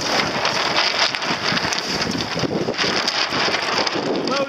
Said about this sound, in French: Donc fais attention, il y a du vent.